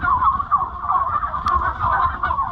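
A flock of 10.5-week-old turkeys on a turkey farm gobble and cluck in a continuous murmuring chorus close by, with no talking.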